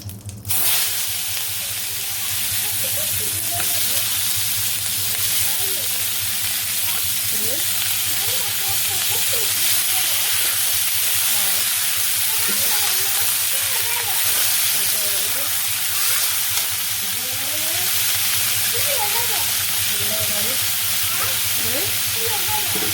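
Cumin seeds and vegetables sizzling in hot oil in a home kitchen, a steady loud frying hiss with occasional stirring clatter running throughout.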